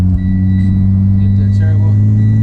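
A Mitsubishi Evo with a turbo engine, recovering from flooding and still slightly boggy, runs steadily while being driven. It makes a loud, close, constant low engine drone.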